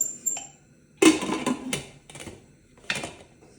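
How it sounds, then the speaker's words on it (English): A pressure cooker lid being set onto a pot on a stove for Swiss steak, with a few close, sharp metallic clanks and rattles in short bursts separated by quiet gaps. "And then we get the lid to the pressure cooker"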